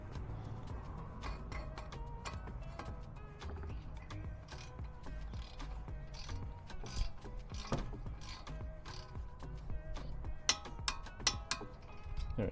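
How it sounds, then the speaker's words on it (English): A torque wrench ratchets quietly while tightening brake caliper slide pins on a VW Polo Vivo, giving irregular clicks that grow sharper and louder toward the end. "I'm going to grab my torque wrench and torque those."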